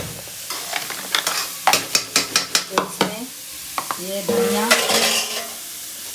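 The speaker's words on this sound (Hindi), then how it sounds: "गोभी हल्की सी फ्राई कर ले रहे हैं ताकि ये ना मुलायम हो जाए, पराठे फटे नहीं।" Cauliflower for paratha filling fries lightly in a pan, a steady sizzle under a run of quick, close spatula strokes scraping and knocking against the metal, with a brief voice near the end.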